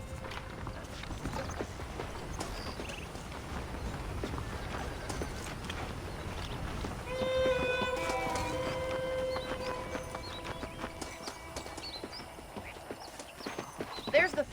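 Horse hooves clip-clop in the video game Red Dead Redemption, a steady walking rhythm of close hoofbeats under voices and background music, with a brief whinny partway through.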